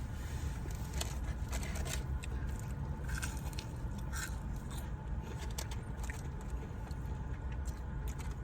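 Crunchy Dave's hot chicken tender being chewed up close, a dense, continuous crackling crunch with sharper bites standing out, steady and loud with no talking.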